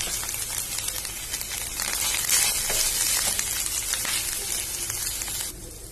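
Desiccated coconut and paneer cooking in a pan for laddoos: a steady, moderate sizzling hiss with light stirring scrapes, rising slightly in the middle and dropping quieter near the end, with no talk.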